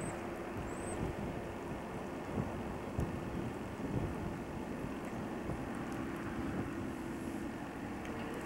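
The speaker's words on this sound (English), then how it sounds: "And I'm getting rained on a little bit." Rain falls steadily during a storm near a trailer, with a dense continuous hiss, a low rumbling underneath, and occasional louder drops and gusts.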